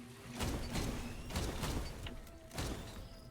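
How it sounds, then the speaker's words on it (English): Exploding shotgun firing in the video game Risk of Rain 2, a rhythmic series of punchy booming blasts about every half second, close and fairly loud, with one brief lull before the final shots. "The shotgun, exploding shotgun."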